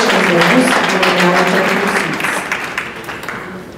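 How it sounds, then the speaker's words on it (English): An audience at a high school honors night applauds scholarship students, a steady wash of clapping that gradually fades over a few seconds. "Could we please have a round of applause for these students?"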